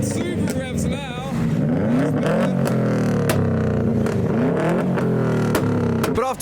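A 500hp Toyota Chaser revs hard as it leaves a car meet, its loud, rising and falling engine note surging repeatedly with sharp pops, while people talk nearby.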